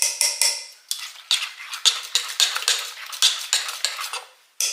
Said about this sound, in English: I'm gonna give it a final stir here